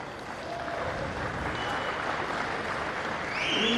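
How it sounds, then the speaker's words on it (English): An audience applauds VIPs and dignitaries at a futsal season event, a steady wash of many hands clapping at moderate distance, sustained throughout and swelling slightly toward the end. "Let's give a round of applause to our VIPs and dignitaries."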